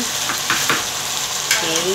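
Tambakol fish sizzles and crackles in a hot pan with a steady frying hiss, punctuated by a few soft stirring scrapes.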